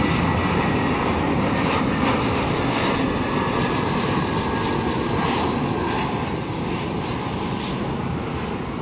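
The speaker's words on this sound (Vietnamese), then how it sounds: "nơi một chiếc máy bay đang bước vào hạ cánh" A Sichuan Airlines Airbus A320 jet comes in to land, its engines giving a broad, steady roar heard from some distance, sustained and unbroken over several seconds.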